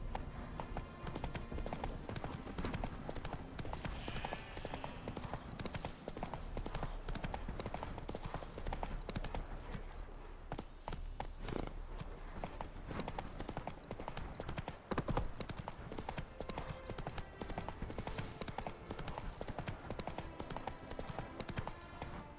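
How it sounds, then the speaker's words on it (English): Horse hooves clip-clop in a steady trotting rhythm on a road in The Witcher 3: Hearts of Stone, faint and continuous under ambient game sound. "Whoa there, Roach"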